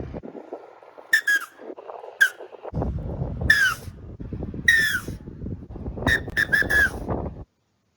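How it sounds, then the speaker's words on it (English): Referee whistle blasts of varying length and intensity, a series of sharp shrill toots, some short and clipped, others longer and louder, spread across several bursts over a noisy background. "there are different whistles for length of time and intensity"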